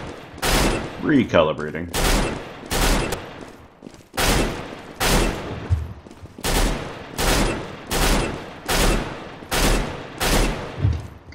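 Galil rifle fire in Counter-Strike: Global Offensive, a steady series of loud, sharp broadband bursts roughly once a second across the whole stretch, with a voice speaking briefly near the start.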